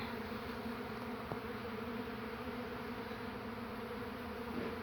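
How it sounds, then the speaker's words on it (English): Honey bees hum in a steady, dense drone during a beehive relocation at a steam rally, close and continuous throughout with no talk. "the bees are more likely to go in now"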